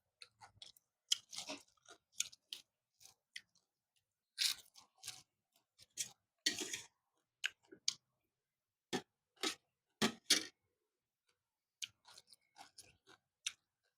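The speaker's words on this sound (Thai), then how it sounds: "นี่กินตำบักแตงมื้อนี้" Chewing and crunching on spicy Thai cucumber salad (tam bak taeng) at a lunch meal, with irregular close, crisp bites and mouth sounds spaced across the stretch, no talk.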